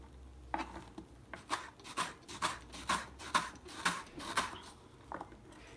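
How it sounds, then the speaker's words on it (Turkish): Onions being sliced julienne with a knife for a Ramadan oven-baked chicken dish: a steady run of about a dozen crisp, close knife strokes against a board, evenly spaced, with no talk over them. "Soğanlarımızı ama jülyen doğruyoruz böyle."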